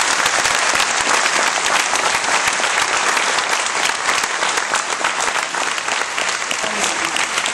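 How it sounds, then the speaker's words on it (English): Loud, vigorous applause from an audience at a 2011 National Technical Honor Society induction ceremony, honoring the inductees. The clapping is dense and continuous, with a faint crowd murmur beneath it. "please, audience, let's give them a great round of applause"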